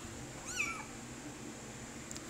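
A white and orange cat lets out one short, high meow close by. The rest is quiet indoor background.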